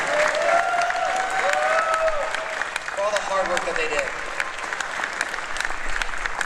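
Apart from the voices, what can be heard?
audience applause at a convention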